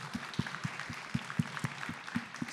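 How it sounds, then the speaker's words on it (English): Audience applause at an early childhood justice and safety panel, a light scattering of claps from a modest crowd, fairly faint and distant and fading away over a few seconds. "That deserves a round of applause because that's unheard of."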